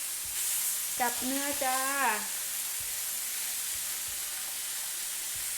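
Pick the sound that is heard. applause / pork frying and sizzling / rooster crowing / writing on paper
pork frying and sizzling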